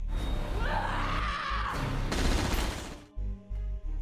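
A loud, chaotic burst of gunfire in a zombie film, with crashing, dramatic soundtrack effects that cut off abruptly near the end.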